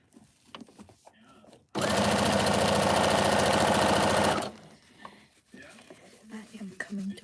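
An electric sewing machine stitches scrunchies in one steady, loud run of about three seconds, with quiet talk and handling noises before and after.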